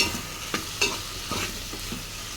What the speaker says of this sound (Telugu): ముక్కలు మొత్తం వేసుకున్నాక ఒకసారి కలుపుకుందాం